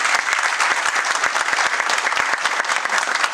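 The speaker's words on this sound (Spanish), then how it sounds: "podríamos agradecerle con otro aplauso más" Audience applause closing a workplace-harassment lecture at a union school session: steady, dense clapping from a sizeable crowd, close and fairly loud throughout with no pauses.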